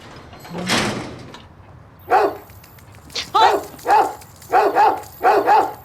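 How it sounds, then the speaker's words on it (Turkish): A dog barks repeatedly in short, close bursts, several sharp barks in a loose rhythm after an earlier brief yelp, with no talking. "Bizim köpeğimiz o."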